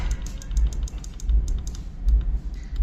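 Keypad buttons pressed on an electrical meter to enter a password, a steady series of close, crisp clicks at an even rhythm over a low background hum.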